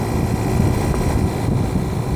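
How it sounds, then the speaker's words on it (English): Compressor of a 1971 Philco Ford 11,000 BTU Noiseless window air conditioner roaring steadily, a loud continuous low drone with airy hiss, close up and without speech. "And as you can tell, the compressor's roaring."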